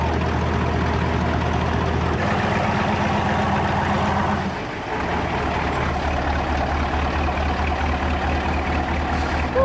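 A truck works its way along Venezuela's highest mountain road, with a steady loud diesel rumble, a sharp air brake hiss midway, and faint reversing beeps. No one speaks.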